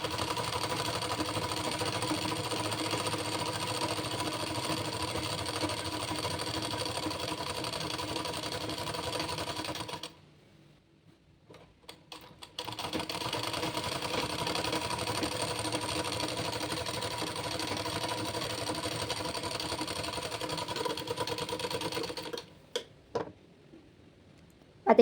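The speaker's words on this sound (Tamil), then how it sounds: "இப்போ இதுக்கு கீழேயும் வந்து பார்த்தீங்கன்னா ஒரு ஸ்டிச் பண்ணிக்கோங்க, ஒரு தையல் போட்டுக்கோங்க." A sewing machine stitches along a blouse hem, running as a steady, close, rhythmic whir. It stops for about two seconds midway, then resumes and ends with a few scattered clicks.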